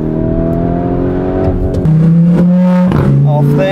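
A Lamborghini Performante accelerates away, its engine note climbing and then shifting to a steady, loud drone as it pulls off, under a speaking voice.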